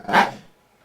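A single short dog bark, close by and moderately loud, fading quickly into quiet background during a game session.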